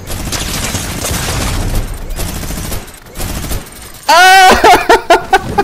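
A minigun in Fortnite roars in a rapid, loud burst after a stretch of game noise, followed by several sharp separate shots, with a brief shout over it.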